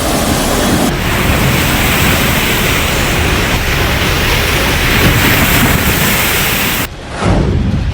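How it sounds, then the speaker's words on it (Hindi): Strong cyclone winds and rough, uncontrollable sea waves make a loud, steady roar of broadband wind and surf noise, nearly unbroken and close, dipping only briefly near the end. "कहीं तेज हवाएं, कहीं बेकाबू होती समंदर की लहरें।"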